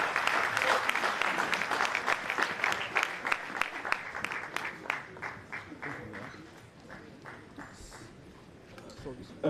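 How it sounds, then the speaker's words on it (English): Applause for a vice president at a national labour conference opening, dense clapping that thins into scattered individual claps as it tapers off, with faint speech underneath. "A round of applause, please, for the Vice President."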